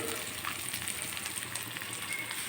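Fenugreek leaves frying in a pan make a continuous, fairly loud crackling sizzle with fine popping throughout and no voices.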